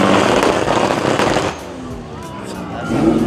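A Holden car roars past up close with a loud, crackling engine burst that fades, then builds again at the end, with people talking over it.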